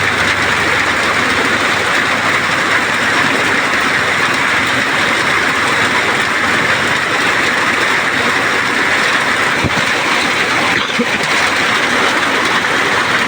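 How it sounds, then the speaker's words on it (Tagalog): Heavy rain pours down in a steady, dense hiss that fills the whole clip without letting up, loud and close. "Sabi guys, kusog ang ulan."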